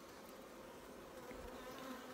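Honey bees of a local breed buzz densely and steadily around an open hive in winter, a close, continuous hum with no talking.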